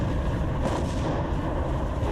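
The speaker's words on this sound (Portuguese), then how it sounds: "Ele abriu fogo com seus poucos canhões de 127 milímetros." Broadband roar from a WWII US destroyer, USS Johnston, firing its 127 mm naval guns at sea, a dense continuous barrage of booming blasts with no distinct gaps, loud and close.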